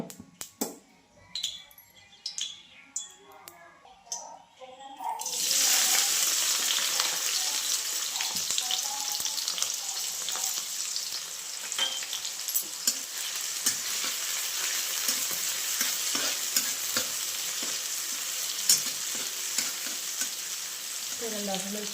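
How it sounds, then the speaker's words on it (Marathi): Green chillies dropped into hot oil in a pan burst into a loud, steady sizzle after a few quiet seconds of small clinks, and the frying continues unbroken with occasional stirring clicks. "थोडंसं तेल गरम होऊन देते आणि मगच टाकते हिरवी मिरची"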